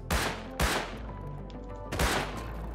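Three loud, close gunshots from the survival game Rust, with two quick blasts near the start and a third after a pause, each ringing out over a steady low hum.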